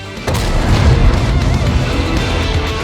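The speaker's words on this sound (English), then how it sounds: "An artillery strike takes out the 103" An artillery strike explodes in a tank video game, a loud booming blast that rolls on and rumbles for a couple of seconds.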